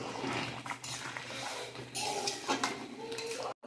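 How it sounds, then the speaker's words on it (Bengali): A metal spoon scrapes and clinks against a pot while spiced khichuri for a Saraswati Puja offering is mixed, in uneven close bursts of clatter with short pauses. "খুব ভালো করে মিশিয়ে নেব।"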